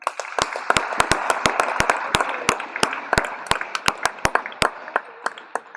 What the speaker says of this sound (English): Let's give a round of applause for the sponsors